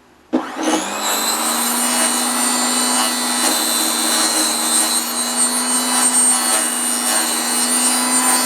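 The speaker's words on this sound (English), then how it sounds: "I'm just going to let it run around the edge to put some grooves in it" A power tool cutting grooves around the edge of an oak piece for a wooden tray starts abruptly and runs continuously, a loud steady whine with a high pitched tone and grinding rasp.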